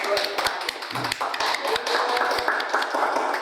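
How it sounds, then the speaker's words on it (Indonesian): Audience at a school podcast event applauding a creative team, with a dense, continuous patter of hand claps and voices mixed in throughout. "Tepuk tangan dulu dong"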